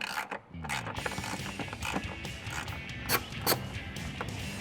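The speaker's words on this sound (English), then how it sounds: "now we're gonna be removing this bolt right here in order to mount up our new JLT bracket" A ratchet clicks away at a 10mm bolt on the valve cover area of a 2010-2017 Ford F-150, with bursts of rapid pawl clicking and a few sharper metallic knocks, close up and alone.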